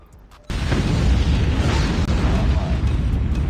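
Nuke explosion in Call of Duty Mobile: after a brief quiet lead-in, a sudden massive boom erupts and becomes a sustained, loud, rumbling roar that fills the rest of the moment.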